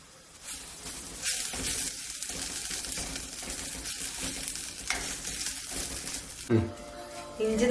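Grated ginger frying in coconut oil in a pan for a Kerala Onam sadya ginger curry gives a steady close sizzle with stirring, and a brief louder clatter near the end.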